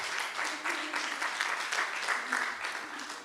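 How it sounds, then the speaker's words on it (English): A church congregation at a Sunday service gives a round of applause, a soft and somewhat distant patter of many hands clapping continuously for a few seconds. "Give them a round of applause"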